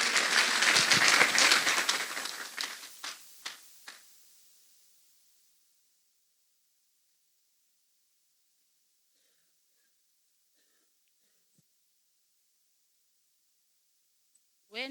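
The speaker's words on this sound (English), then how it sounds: "People of God, let us clap hands for Jesus" A church congregation claps hands loudly together for several seconds, the applause thinning into a few scattered final claps and then fading into near silence, with a brief voice at the very end.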